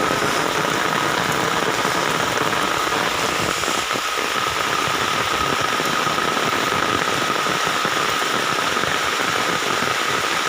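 Steady outdoor rain falls over a cattle pasture, a dense unbroken hiss of drops that stays even and fairly loud for the whole stretch, with no voices.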